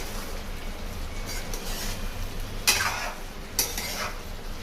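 A spoon stirs chicken curry in a cooking pot over a steady sizzle, with two sharp scraping clinks against the pot, close and without talk.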